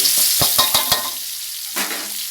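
Pounded garlic with black and white pepper sizzles in a hot wok while being stirred, a loud steady frying hiss broken by several quick scraping stirs.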